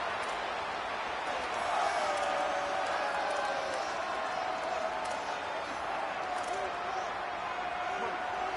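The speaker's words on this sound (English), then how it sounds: "Decibels rising as the crowd gets behind this defense on 3rd down." A simulated college football stadium crowd, Northwestern game, roars steadily on a third down, a dense wash of cheering that rises slightly early on and stays loud and continuous throughout.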